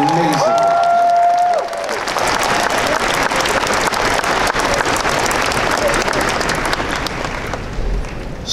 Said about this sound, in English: Please, a round of applause for Dark Horse.